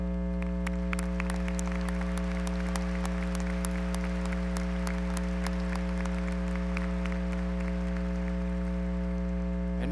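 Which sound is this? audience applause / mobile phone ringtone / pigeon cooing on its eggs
audience applause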